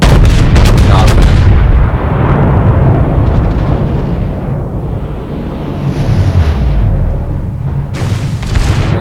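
Heavy warship guns firing in a naval video game: deep booming blasts in a quick opening volley, then rumbling decay with a couple of further distant thuds, loud and without speech.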